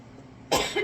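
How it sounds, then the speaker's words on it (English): A single sharp cough is given on request during a physical examination, close and loud after a quiet room tone, with a second short burst right behind it. "Can you cough?"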